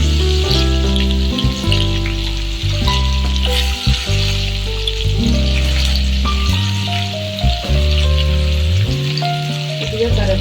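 Onions sizzle steadily in hot tempering oil with cardamom, cloves and cinnamon, a loud close frying hiss throughout, with background music playing over it.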